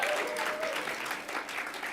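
A student awards ceremony audience applauds throughout, a dense steady wash of clapping from a moderate-sized crowd, fairly close and without a break.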